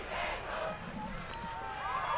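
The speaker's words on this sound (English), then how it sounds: "Crowd reminding people they are the Bengals, the mighty, mighty Bengals." Crowd at an Anoka versus Blaine high school football game, a loud mass of voices chanting and yelling with rising and falling tones, continuous and energetic.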